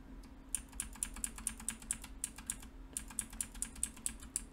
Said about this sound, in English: Sorry if you just hear the clacking of my keyboard, I'm just using the arrow keys here.